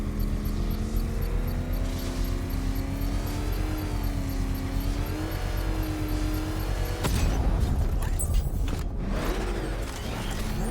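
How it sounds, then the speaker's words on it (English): In Batman: Arkham Knight, a controlled bomb detonation sets off a sudden loud, broadband blast partway through, following a steady droning hum with a rising whine, then rumbling debris and crackle. "I can use the power switch to trigger a controlled explosion."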